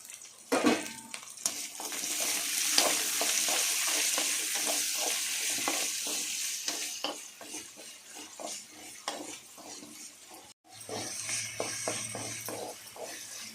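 Tomatoes and onions sauté in a pan for sambar, a steady close sizzle broken by repeated scraping stirs of a spoon against the metal, with a brief pause near the end before the frying resumes.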